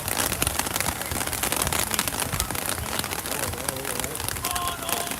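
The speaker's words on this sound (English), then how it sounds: "As the rain, something that I definitely did not miss, has returned." Rain falls steadily on an outdoor football field, making a dense, continuous hiss with scattered crackling patter that stays loud and even for the whole stretch.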